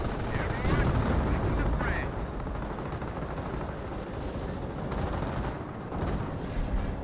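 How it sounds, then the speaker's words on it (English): A strafing run in Company of Heroes, a World War II strategy game: dense, continuous gunfire and explosions rumble loudly throughout amid battlefield noise, with a commentator talking over it. "Strafing run does get a good hit there"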